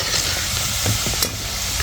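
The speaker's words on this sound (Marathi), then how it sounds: "मग बालुशाही मस्त पाकी तळती" Balushahi dough rounds deep-fry in hot oil, a dense, continuous sizzle and bubbling close up, with a faint scrape of a utensil partway through.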